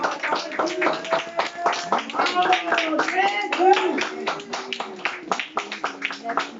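A church congregation claps in rhythm during worship in Lyon, steady hand claps mixed with voices calling and singing close by.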